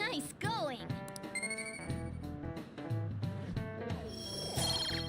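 A Siri alert chiming from a smartwatch, a bright tonal ring with repeated electronic pitches over a cluttered background of voices and other sounds.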